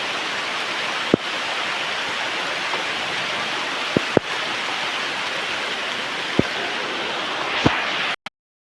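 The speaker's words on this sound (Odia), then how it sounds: "ବର୍ଷାରେ ଭିଜି ଗଲେ ଆମେ" Heavy rain falls on the road to Kapilash, a dense and steady hiss close around the microphone, broken by a few sharp clicks, with no voices, before it cuts off abruptly.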